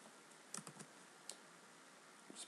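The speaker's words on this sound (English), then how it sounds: "Just be typing a little bit too fast here." Quick typing on a computer keyboard while coding a webpage in HTML and CSS, sparse clicky keystrokes in small bursts and single taps, close and quiet in an otherwise still room.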